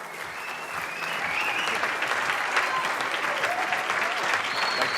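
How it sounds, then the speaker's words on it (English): Sustained audience applause for a morning keynote speaker at a business community event, dense and even clapping from a large crowd that swells after the first second and holds steady throughout. "A warm IBIS community round of applause, please, for our morning keynote speaker."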